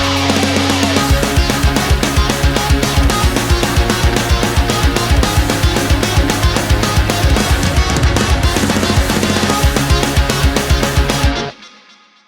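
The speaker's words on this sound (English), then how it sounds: "You'll probably need a guitar tone for leads that sound like this." A saturated pop punk electric guitar lead soars over a full, loud band with a busy drum beat, continuous until the music stops suddenly near the end.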